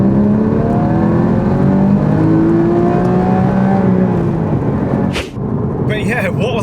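A Porsche GT4 accelerates on an open road, its engine note rising in pitch through the gears from inside the cabin, ending with a sharp gear-change blip and renewed pull.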